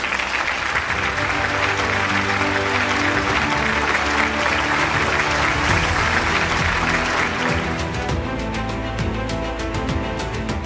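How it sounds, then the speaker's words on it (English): Loud, dense applause from a large convocation audience honouring Professor Vishwanath Dikarad, steady and sustained for about ten seconds with no talk over it. "I think we all need to give him a tremendous applause."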